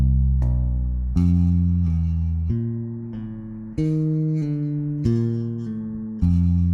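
A bass guitar plays a legato exercise across the strings with middle and index fingers, about eight deep, sustained notes of even length and volume following one another without gaps.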